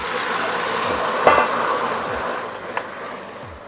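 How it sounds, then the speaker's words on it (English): Tomatoes are thrown into hot oil with toasted garlic, setting off a loud, continuous sizzling hiss with a couple of brief clanks from the pan and utensil partway through. "And now the garlic's toasted, we're gonna throw in the tomatoes."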